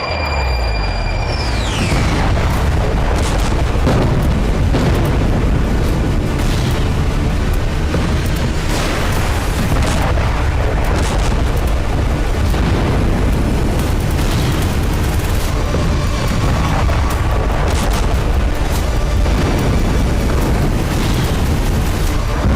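Loud explosions from airstrikes in Lebanon roll through a continuous heavy rumble, with repeated deep booms and crackling bursts rising out of the roar across the whole stretch.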